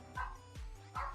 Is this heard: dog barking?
yes